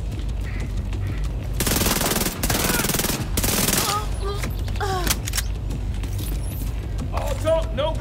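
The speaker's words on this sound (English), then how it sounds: "Couldn't hear you over the sound of my bullets." Heavy automatic gunfire in The Division 2, two long loud sustained bursts followed by scattered single shots and in-game chatter and speech.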